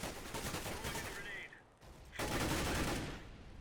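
Rapid gunfire wallbanging through walls in CS:GO, dense bursts of shots that break off briefly mid-way then resume loud and sustained, with a voice talking underneath.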